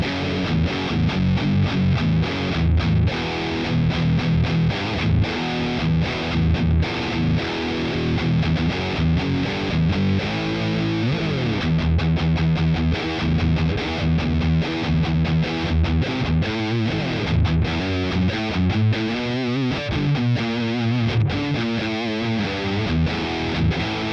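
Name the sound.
Haze Les Paul electric guitar playing heavy distorted tone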